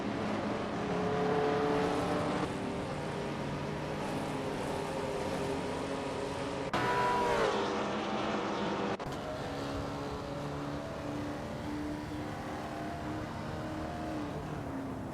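Race cars circling a Le Mans track in a racing video game, a continuous engine whine with shifting pitch and abrupt cuts between camera views, moderately loud and steady with no talk.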